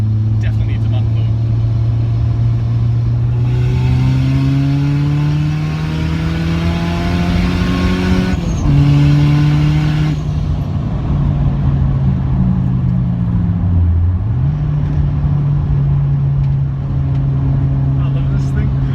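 Nissan Silvia S14a with a screamer pipe revs hard, a loud, close engine drone climbing and falling in pitch with surging throttle blips and a raspy wastegate hiss, while people talk over it.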